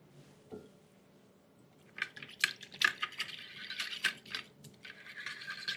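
A big fork stirring a pork chop and rice casserole with onion soup mix, giving wet, squishy scraping strokes that start after a quiet moment and continue in an irregular rhythm, close and moderately loud.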